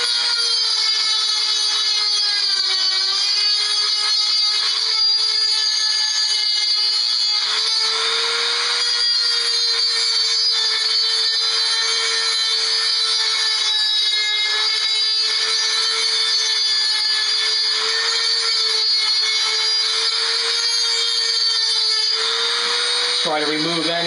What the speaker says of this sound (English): I'm going to sand it down.